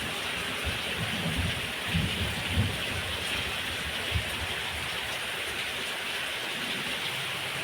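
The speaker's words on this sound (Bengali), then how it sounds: "দেখো কি হারে বৃষ্টি পড়ছে" Heavy rain pouring down outdoors during the festival season, a dense continuous roar of falling water with occasional low rumbles of thunder, loud and unbroken.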